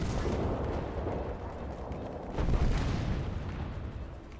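Heavy gunfire and explosions from an aerial combat video game with bombers, a dense continuous rumble of blasts with a louder boom near the middle, no talk.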